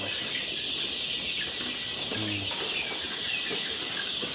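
Soft clucking from a nearby rooster, a few short low calls over steady farmyard background noise.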